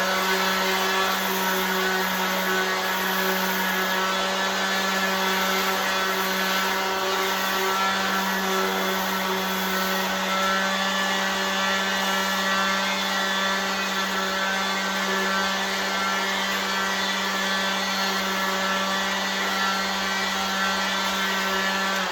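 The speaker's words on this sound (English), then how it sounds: "And this thing does sand as fast or faster." A power sander works steadily on wood, part of a Makita and Milwaukee sander comparison. The motor gives a constant close, loud whir with a steady hum and no pauses.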